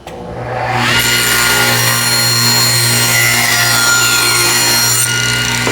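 A table saw slices the end off a wood piece run against the fence: the blade spins up, then a loud, sustained cutting whine, steady and close, easing off at the end.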